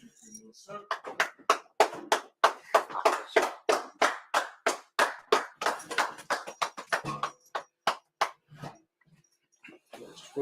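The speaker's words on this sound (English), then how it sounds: "Clap it up." Hands clap in a steady, brisk rhythm, roughly three claps a second, sharp and close, thinning out and stopping near the end.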